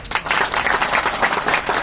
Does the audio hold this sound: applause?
yes